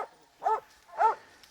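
A young hunting dog on a hog hunt in the rain gives two short, close barks about half a second apart, each a brief whining yelp over quiet surroundings.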